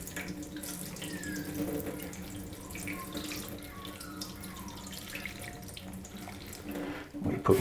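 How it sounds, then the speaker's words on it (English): Water runs from a tap into a basin used for soaking postage stamps, a steady soft splashing and trickling at moderate distance, with a few drips and a brief clatter near the end. "We put more hot water in there, or cold water, whichever you want to put in."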